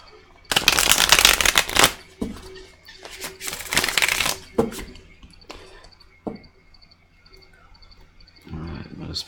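Tarot cards being shuffled in a few loud riffling bursts, close and crisp, with quieter handling rustles and soft taps between them.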